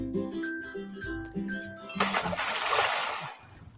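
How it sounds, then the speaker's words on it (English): A bright, noisy water splash bursts in partway through, following clinking, glassy tones, and fizzes out over about a second and a half. "Ooh, that splash sound."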